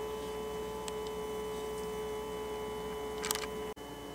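A 15-watt, 12-volt nominal circulator pump on a cheap solar water heater runs with a steady, even electric hum and whine, constant throughout, with a couple of faint ticks and a brief click near the end.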